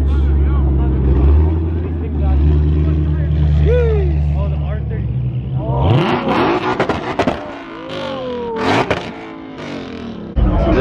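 An orange Ford Shelby GT500 rolls past a lined-up roadside crowd, its engine rumble building loud and close before giving way to further revving and scraping; people talk throughout.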